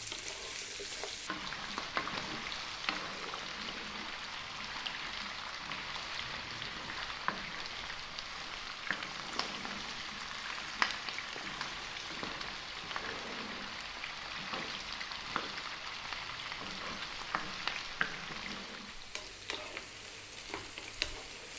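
Steady sizzle of lentils, carrots and aromatics frying in a pan over just-above-medium heat for a lentil carrot dal, with frequent scraping strokes of a stirring utensil throughout; close, continuous and without talk.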